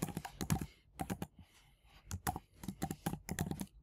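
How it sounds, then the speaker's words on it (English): Quick bursts of typing on a computer keyboard while entering a search query, crisp clustered key clicks in several short runs separated by brief pauses, close and fairly quiet, with no talk. "So I'm typing a jQuery over here."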